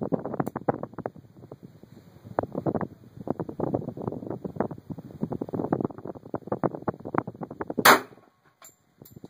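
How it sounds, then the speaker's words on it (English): A single sharp pistol shot, from a 9mm or .45 ACP firing Hornady HAP bullets, cracks out loud near the end after a stretch of gusty wind rumble buffeting the microphone outdoors. "The 9mm is firing a 115 grain bullet, Hornady HAP. This 45 is firing an HAP 230 grain bullet."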